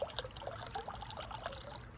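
Water from a measuring cup is poured through a metal strainer, producing a quiet, steady trickle with light splashing and dribbling for about two seconds.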